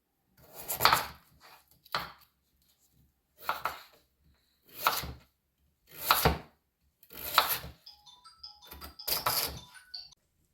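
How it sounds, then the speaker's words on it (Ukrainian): A knife chops through firm beetroot on a board in about eight separate cuts, irregularly spaced, close and clear with quiet pauses between. "Бурячок нарізаємо такими е, немілкими шматочками."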